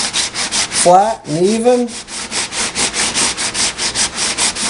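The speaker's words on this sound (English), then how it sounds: "So I use a sanding sponge, and we'll just sand it down" A sanding sponge rubbed back and forth over a mold for silicone sluice box mats, making a steady rhythmic rasp of repeated strokes, close and loud. A voice speaks briefly partway through.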